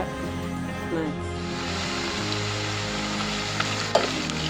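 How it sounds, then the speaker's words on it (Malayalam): Steady loud sizzling of mango ginger pieces frying in hot oil, continuous bubbling hiss up close with an occasional faint clink. "കുറേശ്ശെ ഇട്ട് വറുത്ത് കോരിയതിന് ശേഷം"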